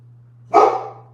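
Dogs bark sharply indoors at a visitor standing outside the door: one loud burst of barking close by, over a steady low hum.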